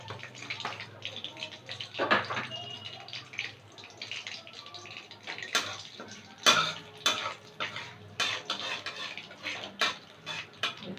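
Whole garam masala frying in a pan of oil, just after catla fish was fried for a quick recipe: a soft background sizzle with clinks and scrapes of a utensil against the pan, under a person talking.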